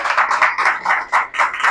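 Audience applause at a sales presentation: a short burst of loud, close, rapid clapping.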